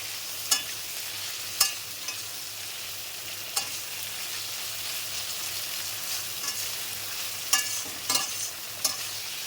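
Shrimp, shells partly on and heads removed, frying in hot oil, giving a steady close sizzle with occasional sharp crackles and pops spaced through it, no voices.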